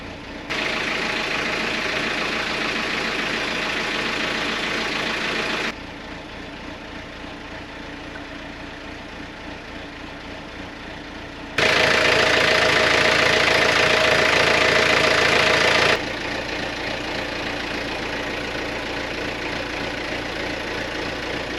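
A boat engine runs smoothly at idle, a steady low rumble with even mechanical knocking that shifts in level across several sections, close and continuous with no talking.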